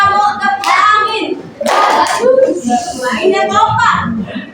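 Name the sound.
children's clapping game, mosquito clap and wind clap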